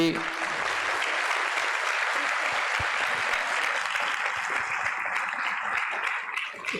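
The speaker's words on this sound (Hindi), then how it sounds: "जोरदार तालियों के साथ" Sustained, loud audience clapping at an ISKCON Nashik devotional drama performance, steady and dense throughout before tapering slightly at the end.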